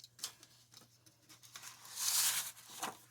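Scissors or a blade cutting the edge off a paper file folder, a few soft snips and crackles of paper, then a longer rasping cut, quiet and close with no talk.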